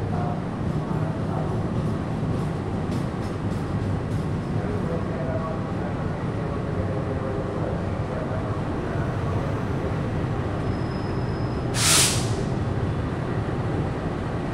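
Inside an executive-class carriage of the Argo Sindoro passenger train leaving Jatinegara, a steady low rumble of the rolling train fills the cabin, with a brief sharp hiss near the end.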